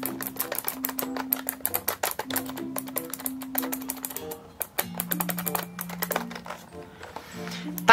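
Keys on an unplugged Bright semi-mechanical gaming keyboard are pressed in a rapid, uneven run of close clicks and taps, with a faint steady tone humming underneath.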